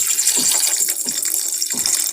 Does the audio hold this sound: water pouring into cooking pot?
yes